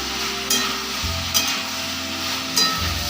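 Potato pieces frying in a pan with a little ginger paste, giving a steady close sizzle broken by a few scraping stirs of a spatula, with no one talking.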